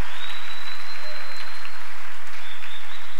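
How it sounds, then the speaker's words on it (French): A church congregation breaks into loud, sustained applause, a dense wash of clapping filling the room for a few seconds with no speech over it. "Est-ce qu'on peut acclamer pour cette église?"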